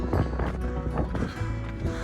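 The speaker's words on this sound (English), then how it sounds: "Oh boy, there's the wind." Gusty wind on a trail at the Grand Canyon South Rim, a steady rushing roar buffeting the microphone through the whole moment.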